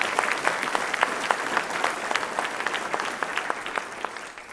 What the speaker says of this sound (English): please give a round of applause for all of you